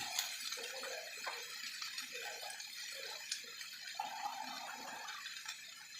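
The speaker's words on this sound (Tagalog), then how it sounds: "At maglalagay ako ng konting tubig." A little water poured into a cooking pot in a home kitchen, a soft, uneven trickle and splash heard close by over several seconds.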